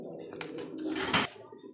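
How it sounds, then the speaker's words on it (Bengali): Rajgolla pigeons, including a male, coo in a steady low rolling murmur close by, with a brief rustle partway through and no talking. "এটা নর কবুতর পুতুল রাজগোল্লা"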